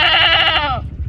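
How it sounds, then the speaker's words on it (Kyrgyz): A first-freshening Anglo-Nubian dairy goat, a calm young doe, gives one loud, close bleat with a wavering, quavering tone that fades after about a second. "Өтө жоош эчки."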